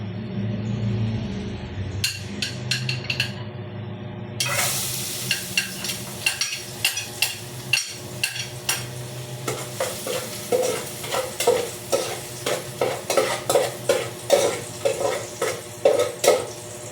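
Garlic sautéing in a little oil in a pan, a steady sizzle with a run of distinct, rhythmic stirring scrapes growing louder toward the end, close by, with no talk.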